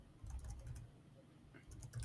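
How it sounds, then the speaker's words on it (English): Typing on a computer keyboard during a crypto news show, faint scattered key clicks over a low background rumble. "So I'm typing over here."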